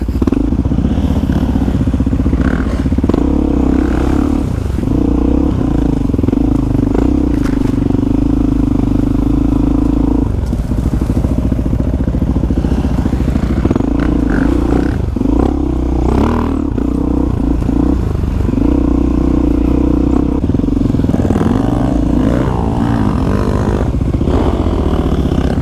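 A Suzuki DRZ motorcycle engine runs loud and close throughout the ride, a steady droning thrum with brief revs and dips, mixed with clattering and thumping from the road.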